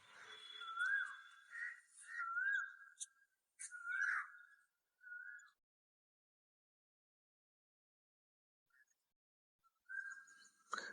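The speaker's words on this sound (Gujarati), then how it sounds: "જો ચાર કોયલ બોલે" Koels calling on a quiet morning: a few clear, rising whistled calls come in quick succession, then a long silence before another call near the end, all fairly close and alone.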